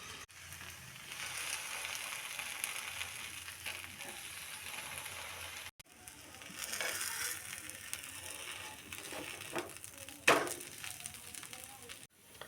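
A flipped veg crispy uttapam cooks on a hot pan with a continuous soft sizzle and faint crackle, broken by a brief gap and a single sharp clink near the end.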